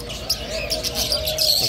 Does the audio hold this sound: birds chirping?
yes